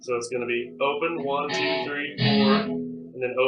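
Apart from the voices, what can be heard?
None of the usual background noises is heard.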